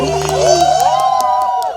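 An audience at a live concert by a band cheers and whoops, with loud shouts and some clapping close by over a low, sustained instrumental hum.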